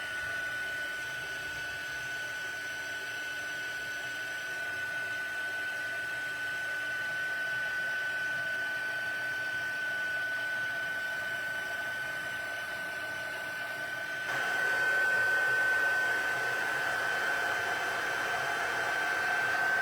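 A heat tool drying ink on a stamped card gives a steady, loud blowing whir with a high tonal whine that holds for about twenty seconds and grows slightly louder partway through, no talk.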